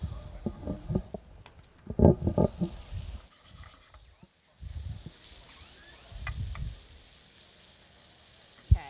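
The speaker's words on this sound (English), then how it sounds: "this is a good time to put the shrimp in as well. That's our jumbo Texas shrimp" Jumbo Texas shrimp dropped into a hot pan at a garlic festival cooking demonstration, giving bursts of loud close sizzling and clatter that die down and return, with a quiet gap in between.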